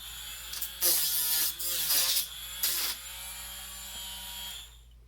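Tacklife 4V cordless rotary tool sanding, a close high-pitched motor whine with surges in pitch as the sanding bit bites into the surface, steady overall before tapering off at the end.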